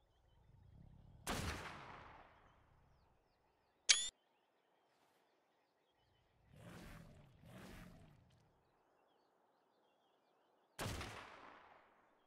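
Gunfire in the video game ARK, a few loud separate shots with long decaying echoes, including a sharp crack and a double report, spaced apart by quiet gaps.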